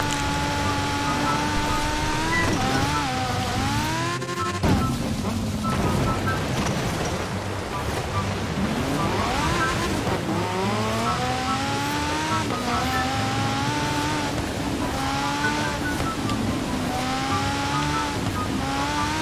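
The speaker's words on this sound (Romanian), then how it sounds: "Sună bestial mașina asta." Ferrari F40 Competizione engine in a racing video game, revving hard through repeated gear changes with rising and falling pitch sweeps, loud and continuous, with someone talking over it.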